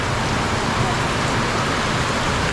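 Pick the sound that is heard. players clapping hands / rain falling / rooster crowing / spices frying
rain falling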